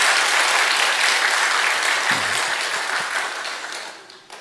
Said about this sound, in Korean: 여러분 다시 한번 크게 박수 한번 해주세요.